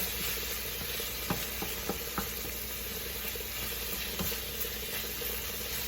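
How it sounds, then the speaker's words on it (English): Onions frying in a pan and being stirred, a soft continuous sizzle with occasional light scrapes and taps of the utensil, fairly quiet and without talk. "Again, stirring to not let any fond create at the bottom, not let it get any color."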